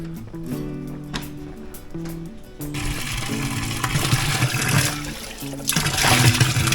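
Cold water starts gushing from a tap partway through, a loud steady rush over a quieter background hum.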